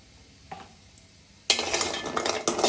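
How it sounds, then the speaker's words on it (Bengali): Pumpkin bori (lentil dumplings) frying in a pan, with a light utensil clink first, then a sudden loud, close sizzle that keeps crackling with brief stirring scrapes. "আমি প্রথমে কুমড়া বড়িগুলা ভেজে নেব"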